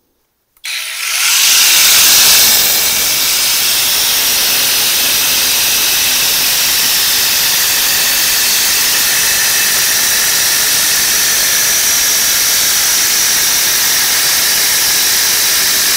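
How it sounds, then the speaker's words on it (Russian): An Interskol Multimax 36 cordless multitool fitted with its reciprocating saw module cuts steadily, a loud, continuous buzzing rasp that starts after a brief silence and runs unbroken to the end, with no talking. "поставить модуль сабельной пилы и дорезать"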